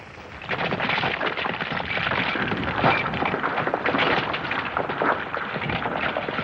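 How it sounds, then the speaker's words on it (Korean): A dense, continuous roaring rumble with crashing impacts throughout, loud and sustained like heavy rocks tumbling and pounding down a slope. "커다란 바위 덩어리가 엄청난 소리를 내며 굴러 내려왔습니다."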